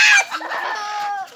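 A chicken caught and carried by a man gives a loud, close squawk and then a short run of agitated clucks, alone and without talk.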